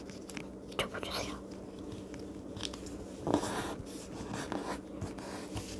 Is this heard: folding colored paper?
yes